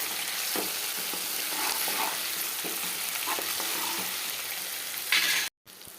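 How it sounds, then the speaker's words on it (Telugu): Ginger garlic paste sizzles in a hot pan while a spoon stirs it, a continuous loud frying hiss with soft scraping strokes, ending in a brief louder burst and a sudden cut. "తర్వాత అల్లం వెల్లుల్లిగడ్డల పేస్ట్ మంచిగా గోలే వరకు వేయించుకోవాలి"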